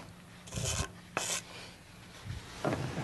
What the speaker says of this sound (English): all I'm going to do is scrape in a few of the walnuts here